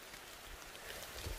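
Rain falls outdoors as a faint, steady hiss that continues evenly throughout, with no voices.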